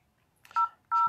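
A telephone number being dialed, with two clear electronic touch-tone beeps heard close up and on their own.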